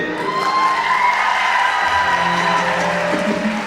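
A live concert crowd at a Gurban Bayramy show applauds and cheers loudly and continuously, with a sustained musical tone and whoops mixed into the dense clapping.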